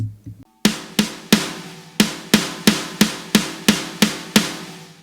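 A fat, punchy snare drum, processed with saturation and a clipper for a hardcore mix, hits eleven times in a steady rhythm, each strike loud and dense with a thick sustaining tail.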